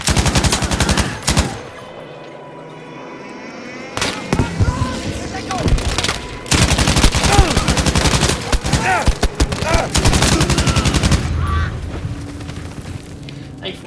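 Cannon fire in Battlefield V, with repeated loud booming blasts and bursts of gunfire spread through a chaotic battle, while players talk excitedly in French over the action.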